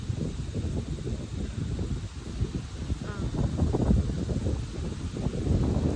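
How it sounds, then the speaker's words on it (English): Wind gusts across an outdoor microphone in a steady low rumble that swells toward the end, with faint rustling mixed in. "Oh, this wind is beautiful."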